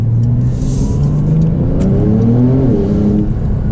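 A 2021 Porsche 992 Turbo, all-wheel drive, accelerating on a winding road, its engine note climbing loud and close through rising gears with a steady whir beneath.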